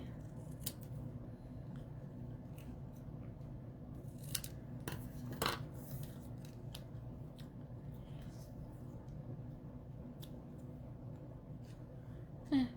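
Scissors snip through paper in a quiet room, a few sharp cuts scattered among soft handling rustles and light taps, close and faint.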